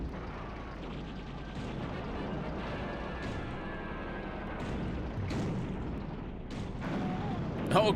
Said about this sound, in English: Grim rammed Thumper to death